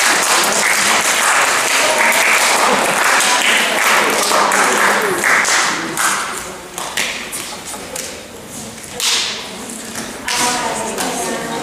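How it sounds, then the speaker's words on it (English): Middle school students applaud honor society members in a school room, with loud, dense clapping at first that breaks into uneven bursts and scattered claps, and some voices mixed in. "Let's give them a round of applause."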